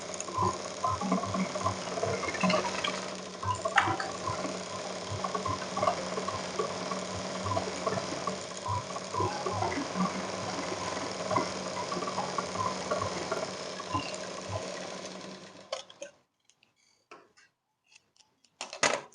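A sewing machine stitches a tucked blouse with a rapid, even mechanical whirr and ticking that runs steadily for about fifteen seconds before stopping, followed by a few faint handling clicks.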